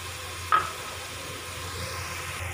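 Ginger-garlic-tomato paste mixed with chili, chaat masala, dried coriander and korma masala is stirred in a frying pan for potato and egg curry, giving a soft, steady sizzle and one sharp clink of the utensil early on.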